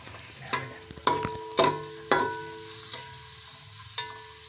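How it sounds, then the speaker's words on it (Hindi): Onions fry in oil in a pan, a faint background sizzle punctuated by several sharp ringing clanks of a metal spoon striking the pan at irregular intervals. "अब इसमें प्याज डालते हैं और हमने इसको फ्राई करना है"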